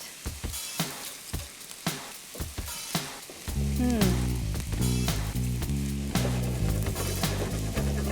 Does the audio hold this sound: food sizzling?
yes